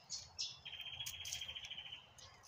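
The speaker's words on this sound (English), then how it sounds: "Birds." Birds chirp in a park with a children's playground, thin high tweets and a sustained trill over a quiet, low background hum, faint and at a distance.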